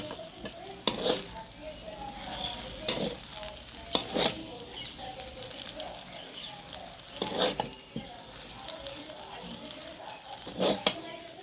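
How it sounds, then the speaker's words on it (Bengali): Chow mein noodles frying in a pan are stirred, giving a steady sizzle broken by several sharp scraping strokes of the utensil spaced a second or two apart, close and fairly loud. "ভালো করে নাড়িয়ে নেবো"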